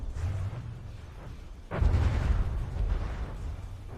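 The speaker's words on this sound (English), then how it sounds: "those shells just eat right into our ship" Naval shells slamming into a guided missile destroyer in From The Depths: a sudden heavy impact rumble that swells into sustained low roaring explosions over a steady droning background.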